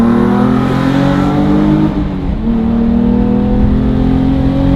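A Nissan 350Z drift car with a welded differential and manual diff accelerates hard from inside the cabin, its engine droning loudly and climbing steadily in pitch, with a brief dip at a gear change before revving on; no talking.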